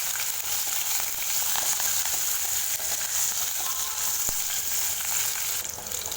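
Green chilies frying in hot oil with curry leaves for a green gram curry, a loud continuous sizzle that holds steady throughout with a few faint stirring clicks and no talk.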